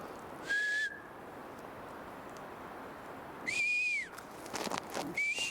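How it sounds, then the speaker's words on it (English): Three clear whistled notes, each a short rising-and-falling tone, spaced apart over steady outdoor hiss. "I got to whistle so they know."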